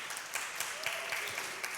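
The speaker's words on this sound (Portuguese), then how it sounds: "Uma salva de palmas para eles, por favor." Applause from a church congregation for a group of children who joined the preaching, a dense steady patter of many hands at moderate distance lasting the whole moment.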